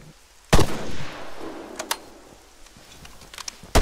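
Gunfire in Arma 3: one loud sharp shot near the start followed by a few fainter cracks and distant pops, with a closing burst at the end.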